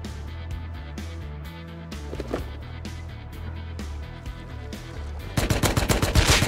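Rapid gunfire bursts in the survival game Rust, with dense repeated shots throughout and a louder, closer volley of cracks near the end over steady game ambience.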